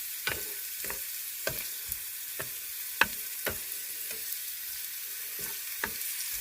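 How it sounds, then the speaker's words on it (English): Eggs fry in a pan with salt, a bright continuous sizzle broken by about a dozen irregular scraping stirs, close and fairly loud, with no voices. "That way, when I scramble my eggs, that's going to put a little salt in them too."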